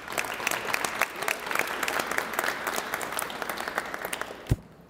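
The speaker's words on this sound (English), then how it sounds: "let's give them all one big round of applause." Applause at a business prize competition, a steady crowd of many hands clapping with crisp individual claps on top, moderately loud, ending with a single thump.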